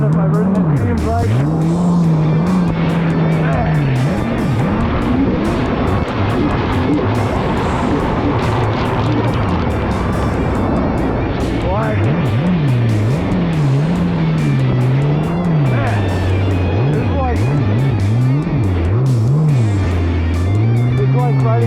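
A 2017 Kawasaki SXR 1500 stand-up jet ski races over water, its engine droning loud and close with a wavering pitch that rises and falls as the throttle changes, under wind and spray.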